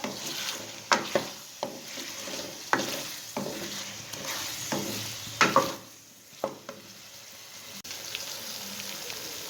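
Ginger and garlic frying with chicken in a pan for aloo chicken, a steady sizzle with repeated sharp stirring scrapes and clacks close by, no talking.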